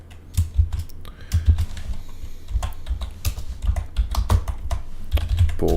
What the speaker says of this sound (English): So let me see now if we start typing the necessary details.